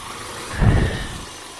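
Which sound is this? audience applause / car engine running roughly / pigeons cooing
car engine running roughly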